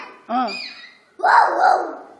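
Children's voices imitate a dog barking, with a high yelping call followed by a longer, rougher bark-like cry, both close and fairly loud with a pause between.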